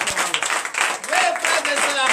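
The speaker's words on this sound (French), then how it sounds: "Donnez encore l'acclamation" A church congregation claps again at a night deliverance service, a sustained wash of applause with a voice speaking and calling out over it.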